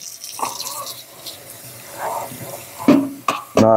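Tap water runs into a sink as a vacuum filter is washed, a soft close splashing that swells and breaks off briefly near the end, with no words spoken.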